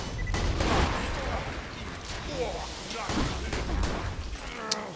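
Magic Missile grenade in Borderlands 2, fired by the siren Maya in a temple fight; bursts of explosions and rapid gunfire pop in a busy volley, loud and close, with someone talking over them.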